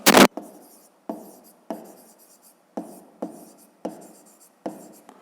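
Pen strokes of a maths solution being written out for a fifth-grade exercise: a sharp scrape opens, then about six evenly spaced short strokes, close and clear, with no talk.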